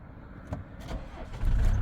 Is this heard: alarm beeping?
no